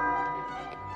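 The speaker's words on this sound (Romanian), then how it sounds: "trebuie doar să suni în acest clopoțel." A small hand bell rings in a royal setting in an animated children's film, giving a bright, ringing tone that starts strong and slowly fades.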